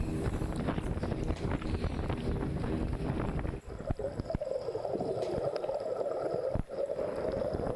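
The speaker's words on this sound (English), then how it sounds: "So here we are on a rough boat ride on our last morning out, Saturday morning" A boat ride on rough water near Lighthouse Reef, with steady heavy wind buffeting the microphone over engine drone and splashing hull noise, loud and continuous, briefly dipping midway, no voices.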